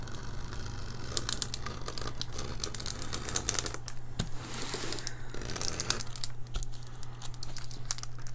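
Scissors cutting the borders of a diamond painting canvas, giving close, continuous crinkly snipping and rustling over a steady low hum.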